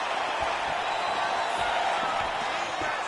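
A large crowd at an MMA fight night roars steadily in the background, punctuated by dull, scattered thumps of strikes landing.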